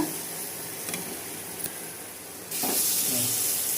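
Raw mango sautéing in a pan over a low flame, a soft steady hiss and sizzle that swells louder near the end, with faint scraping stirs.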